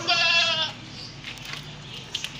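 A male goat with four adult teeth bleats loudly at an open livestock market, one sustained, wavering cry at the start that fades into faint background murmur and scattered noise.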